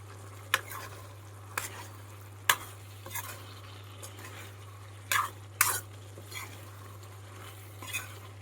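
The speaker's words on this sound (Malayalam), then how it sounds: "കട്ട് ചെയ്ത് വെച്ചിരുന്ന മുട്ട ഇതിലേക്ക് ചേർത്തു ഇളക്കി യോജിപ്പിക്കാം" A spoon stirs boiled egg pieces into an okra masala curry in a pan, giving sparse clinks and scrapes over a soft simmer and a low steady hum.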